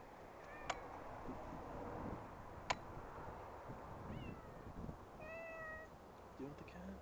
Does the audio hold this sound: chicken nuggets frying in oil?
no